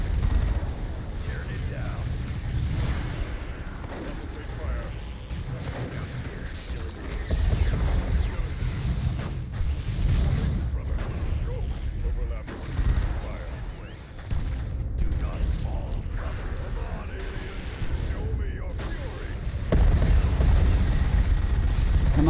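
Gunfire and explosions from the Dawn of War 2: Chaos Rising video game roar on as a dense, continuous battle din with heavy low rumble, with voices talking over the combat.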